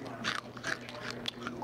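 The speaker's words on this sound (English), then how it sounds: "Crunchy, delicious bacon." Someone bites into crunchy bacon on a burger, with a few close crisp crunches and chewing bursts over quiet room tone.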